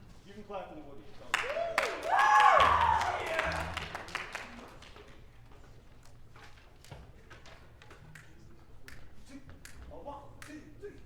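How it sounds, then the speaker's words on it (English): Audience applause for a jazz band at a high school concert, a burst of clapping swelling around two to three seconds then thinning into scattered claps under murmuring crowd noise and voices. "You can clap for The Woogie."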